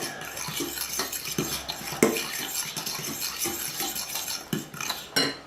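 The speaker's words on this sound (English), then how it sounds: "Before you add the meat in, you want to mix this stuff in." Egg being mixed into a meatball mixture in a bowl for Italian-style meatballs, giving wet scraping and clinking utensil strokes against the bowl in an irregular rhythm, close and moderately loud, with no talking.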